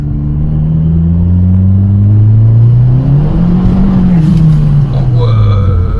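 A Dodge Caliber SRT4 accelerates hard, its engine note rising and sweeping steadily in pitch with a continuous close rumble throughout, while people talk over it inside the car.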